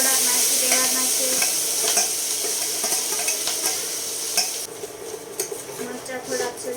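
Green chillies hitting hot oil in a frying pan with curry leaves, loud steady sizzling under repeated metal spoon scrapes and clinks as they are stirred, close up, with the frying easing toward the end.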